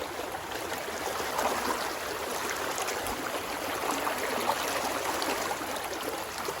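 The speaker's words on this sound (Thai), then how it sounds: "มีน้ำตกส่วนตัว" Water pours steadily over a small secluded waterfall in the countryside, a continuous close rush of splashing and hissing with no pauses.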